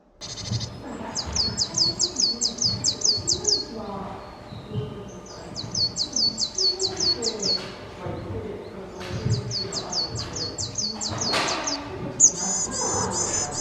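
Recorded birdsong from an electronic audio bird guide pen held over the pages of a bird book, with repeated bursts of high chirping and trills in short phrases over a steady low background.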